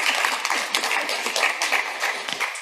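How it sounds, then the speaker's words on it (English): Dense round of applause at a state board meeting in Klamath Falls, many hands clapping together close by, steady and loud throughout with no talk. "I want to explain the applause."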